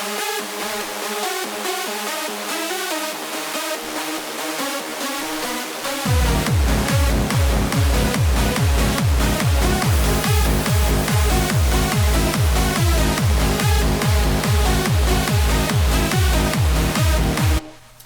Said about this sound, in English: So the pads on their own would sound something like this.